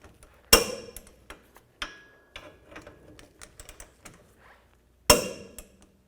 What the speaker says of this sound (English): Now we're going to torque these to 129 foot-pounds with our 18mm socket and torque wrench.